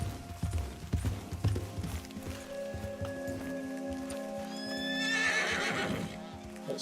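A Mustang horse in Red Dead Redemption 2 lets out a drawn-out whinny late in the scene, following a stretch of clip-clopping hooves and ambient game sound with light rain.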